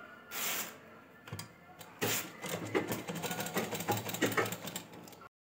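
Sewing machine stitching piping onto a Gujarati Rabari ghaghra belt, running in short bursts and then a steadier rattling stretch of stitching, close and fairly quiet, with no talk.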